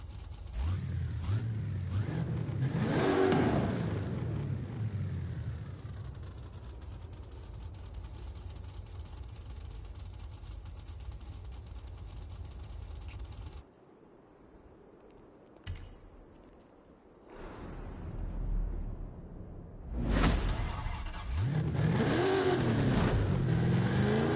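A car with a Hurst shifter revs and accelerates in Forza Horizon 5, its engine droning steadily and loud, dropping out briefly mid-way before surging back hard near the end.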